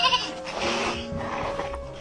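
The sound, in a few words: goat bleating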